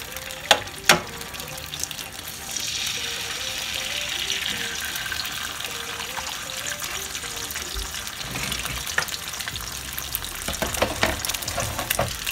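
Cut ham fries in a pan with a steady, crackling sizzle that continues throughout. A few faint clinks and bubbling pops sit on top, and no one speaks.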